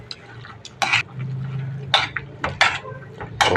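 Adobo is stirred in a metal cooking pot, the spoon clanking and scraping against the sides in irregular knocks over a low sizzle.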